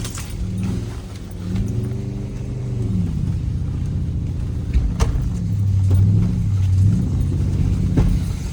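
Old off-road truck crawling up over rocks: a steady, close low engine rumble with shifting revs and occasional clunks and rattles from the body, with no voices.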